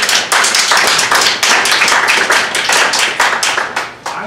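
A meeting crowd claps, a dense run of loud hand claps with a slightly uneven rhythm that fades toward the end, with no clear cheering voices.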